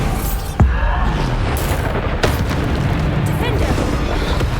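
Bombarda explosion spells cast during a combat trial in Hogwarts Legacy, with two sharp booming blasts standing out over a constant wash of battle noise and effects.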